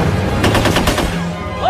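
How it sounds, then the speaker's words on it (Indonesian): A rapid burst of automatic gunfire in an Indonesian war film shootout, several sharp close shots in quick succession over background noise. "Baku tembak pun terjadi."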